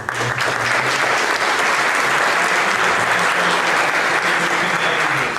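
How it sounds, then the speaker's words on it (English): Audience at a cybersecurity forum giving a sustained round of applause, a loud, dense wash of many hands clapping steadily throughout with a faint voice briefly underneath. "round of applause for"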